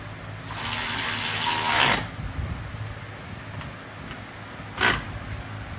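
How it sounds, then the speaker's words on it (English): A ratchet driving 12 mm bolts back in on a Honda Element during a subframe connector install: one long, loud burst of rapid clicking, then quiet shop ambience and a brief second click near the end. "And now we're gonna bolt that all back together. Again, these are 12 millimeters."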